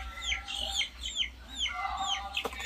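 Brahma chickens clucking on a cold winter morning, a run of repeated short clucks and calls close by at a moderate level, with faint low background rumble and no talk.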